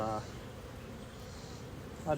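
Honey bees hum around an open hive during an inspection, a steady low buzz of many insects close by, with a brief voice at the start and end.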